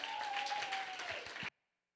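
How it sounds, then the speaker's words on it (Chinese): A church congregation applauding to welcome a dance troupe during a Sunday worship service, a steady wash of clapping that stops abruptly, with a sustained sung or instrumental tone running underneath. "我们热烈的掌声来欢迎我们的舞团"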